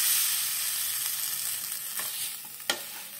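Boiled drumstick pods stirred into a curry in a hot pan, a soft continuous sizzle with faint spoon scrapes and one brief clink, close and quiet with no talking.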